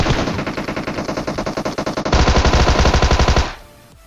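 A Tommy gun fires in PUBG in rapid continuous bursts of loud automatic gunfire, the rhythm tightening and growing heavier before the shooting stops abruptly.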